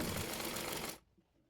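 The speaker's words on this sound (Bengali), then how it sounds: "তার মোহরি অনুযায়ী হাতাটি সেলাই করে নেব" A sewing machine runs briefly, stitching the sleeve of a child's fatua, a close, steady whirring burst that stops abruptly.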